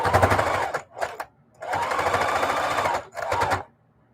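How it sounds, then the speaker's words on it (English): A no-frills mechanical sewing machine with a strong motor stitches through a quilt in loud rapid bursts, two long runs broken by short pauses and brief stitches. "This one is a no frills machine with no computer gizmos, and all it does is good strong sewing with a good strong motor."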